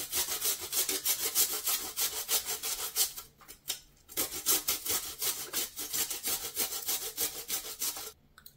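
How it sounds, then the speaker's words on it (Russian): Fresh cucumber scraped on a fine grater in quick, steady rasping strokes, close and continuous with a couple of brief pauses. "Натираю на мелкой терке."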